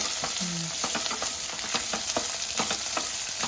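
Onions and green chilies fry in a pan for a brinjal and tomato gravy curry, a steady close sizzle with occasional stirring scrapes and taps throughout and no talk.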